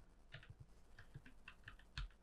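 A folder name is typed on a computer keyboard, a quiet run of light, irregular key clicks close by.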